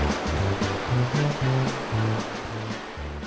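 Whitewater rapids on the Flambeau River in northern Wisconsin, a loud continuous rushing roar of churning water, close and unbroken, along with some low rhythmic tones.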